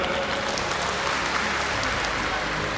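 During a public lecture at Universitas Tadulako, the audience in the hall gives a short, even burst of applause. It sounds dense and constant, with many hands clapping together.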